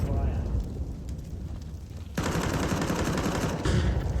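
Counter-Strike gunfire in an ESL Challenger grand final match, rapid bursts of automatic rifle fire with a sudden louder volley midway, continuous and close, under excited commentary.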